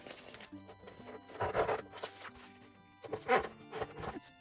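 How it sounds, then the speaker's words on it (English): Paper strip being folded back and forth concertina-style by hand, giving bursts of crisp crinkling and rustling with brief pauses between folds, close and fairly quiet, with no talk. "So we're going to concertina up this paper."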